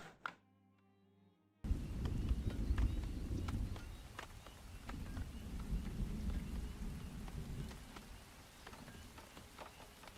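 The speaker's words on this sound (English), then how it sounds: "don't be dropping lightning in the middle of my village" Steady rain pours on the ground in the video game Farthest Frontier, with crackling lightning strikes and low rolling thunder over a village, after a brief musical tone at the start.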